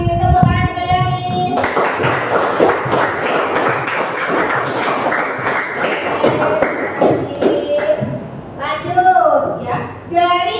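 An audience at an Islamic lesson on husnudhon claps steadily for about six seconds, a dense, loud patter of many hands, with a voice speaking just before and after.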